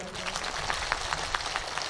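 A crowd at a Congress election rally in Lohawat, Rajasthan, claps, scattered and fairly faint, with individual sharper claps popping out of a soft continuous wash of hands.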